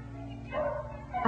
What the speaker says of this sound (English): Beagle dogs are used because of their passive nature and unwillingness to bite.